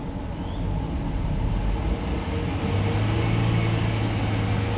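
A Ford Explorer Platinum's engine is given gas, a steady low rumble that swells slightly as the throttle opens, heard close by without any voices.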